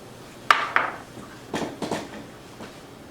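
A utensil knocks and scrapes against a pan while stirring cilantro into a reduced cream mixture, a few sharp taps followed by softer rubbing scrapes, close and moderately quiet.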